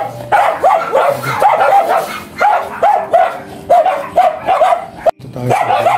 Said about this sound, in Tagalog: Marami silang aso yan.